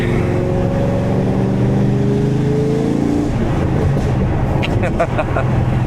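A loud, throaty V8 engine of a cammed fifth-generation Chevrolet Camaro Z28 rumbles steadily while driving, with a rough idle-like lope and some background noise throughout.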